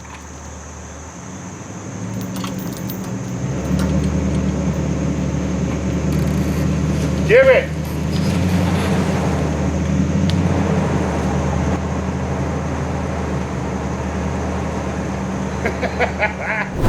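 A truck strains against a chain in a homemade truck pull until its wheels spin out, giving a steady, loud low engine roar throughout with a brief squeal midway. A voice speaks briefly.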